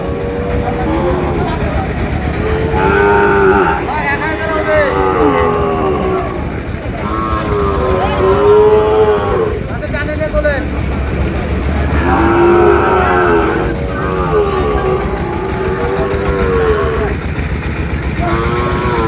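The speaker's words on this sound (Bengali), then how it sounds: "চল আমি একটু দেখি গরু।" Sahiwal cattle at a busy livestock market in Chandpur low out a series of drawn-out moos, several overlapping and fairly close, over steady crowd chatter and people talking nearby.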